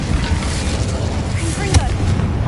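Incendio fire spell cast in the Hogwarts Legacy video game: a sharp burst of game effects with a brief whooshing flare near the middle, over a continuous dense background of game noise and ambience.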